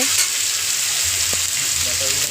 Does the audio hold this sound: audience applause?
no